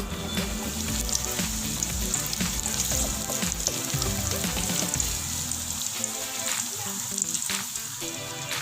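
Black chana masala vadas fry in hot oil with a dense, continuous crackling sizzle, close and loud throughout, easing slightly toward the end.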